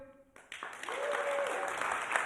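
A live podcast audience at the Cain Center breaks into applause, a dense wash of claps swelling after a brief pause and holding steady, fairly distant.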